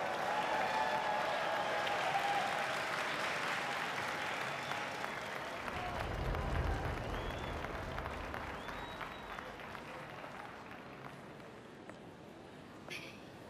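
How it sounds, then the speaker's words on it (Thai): Audience at a wedding applauding the co-host, a steady wash of clapping that starts strong and slowly fades over several seconds. "ขอเสียงปรบมือด้วยครับ"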